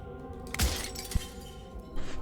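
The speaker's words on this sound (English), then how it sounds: "But his pleas disappear at the sound of breaking glass." Glass shatters in the video game Slay the Princess, a sharp crash around the half-second mark followed by a second brittle impact and scattered tinkling debris over a low ambient music bed, with no talking.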